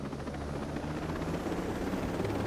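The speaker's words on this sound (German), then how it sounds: "Ich fliege den Heli." A helicopter in the video game Ghost Recon Breakpoint flies steadily, its rotor throbbing under a dense, continuous engine roar.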